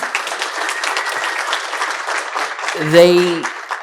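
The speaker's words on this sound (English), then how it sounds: "If you'll both stand and receive a warm round of applause" Warm audience applause at a university lecture series for two event organizers, sustained clapping from a crowd filling the room, with a brief tonal sound rising near the end.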